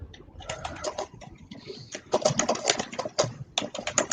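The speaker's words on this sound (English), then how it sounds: "Yeah, I've got this clicky keyboard." Rapid clicky computer keyboard keys tapped in irregular bursts, close and crisp, with a bird cooing faintly in the background.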